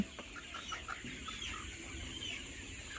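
Chickens on a poultry farm cluck and chirp in a dense, overlapping chorus, moderately close, over a constant background hum.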